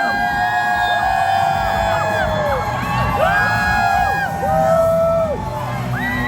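A live audience at a thank-you event for a film passing HK$100 million at the box office cheers loudly and continuously, with sweeping whistle- or horn-like tones rising and falling over the crowd roar.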